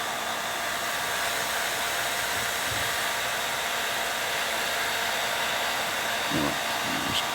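A powerful hair dryer runs continuously at close range with a steady, loud, hissing airflow and whine, joined by a few faint handling knocks near the end.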